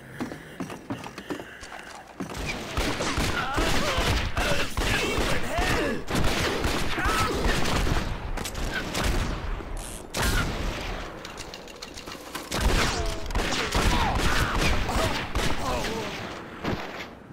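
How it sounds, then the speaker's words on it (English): Gunfire in Red Dead Revolver, with an enemy shooting from high ground: repeated loud shots and bursts in quick succession, mixed with hoof-like clatter and low booms, while a player talks over the action. "Dude, you're shooting me from up there."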